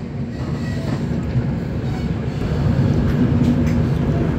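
Diesel-hauled Tejas Rajdhani Express train arriving at Agartala railway station, a steady low rumble of wheels and engine that grows slightly louder toward the end, with no talk.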